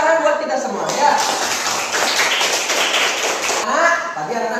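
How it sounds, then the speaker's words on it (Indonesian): Children in a classroom break into applause, a dense burst of clapping lasting a couple of seconds between stretches of a teacher's talk. "Tepuk tangan buat kita semua ya."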